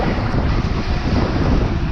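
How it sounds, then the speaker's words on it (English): Rushing water and wind roar steadily as a rider speeds down a water slide, a loud continuous whoosh with no break. "Speed up, water slide!"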